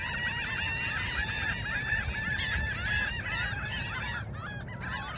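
Laughing gulls call constantly in a dense flock, overlapping nasal yelping cries near and loud with no pause, along a coastal shore.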